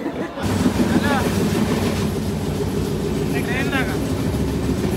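A local commuter train rumbles along steadily with a constant low mechanical roar, heard from the general compartment, and brief voices rise faintly over the running noise.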